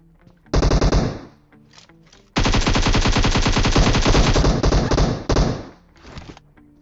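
Automatic gunfire in a battle royale video game: a loud short burst, then a long sustained stream of rapid shots and a brief final burst, all dense and close.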